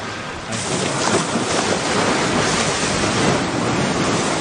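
Ocean surf washes steadily onto the shore, a loud continuous roar of breaking waves with no pauses and no voices.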